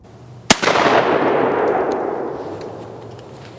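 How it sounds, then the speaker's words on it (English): A single loud shotgun blast with a Kent Fast Steel waterfowl load, fired at 25 yards through a short-range Carlson Cremator choke, a sharp crack followed by a long fading outdoor rumble, no talk. "So let's take the first shot with the Kent."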